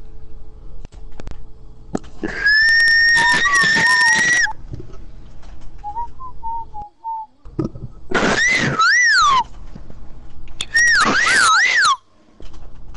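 A person whistles in three separate bursts of rising and falling, warbling notes, with a brief, softer whistled phrase between them and quiet gaps in between.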